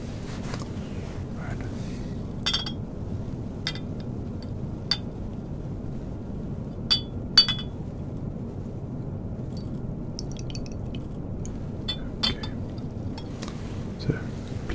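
Faint, sparse glass clinks and light taps of a glass of port being poured and prepared, scattered over a quiet low hum.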